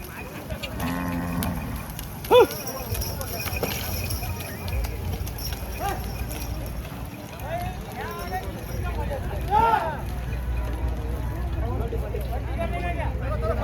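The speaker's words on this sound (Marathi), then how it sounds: "एकदम तुफानाची बैल जोडी चालली" A big pair of bullocks, one red, being worked at the Gangakhed cattle market, with lowing and hoof clip-clop amid a busy crowd, under steady talk and market chatter.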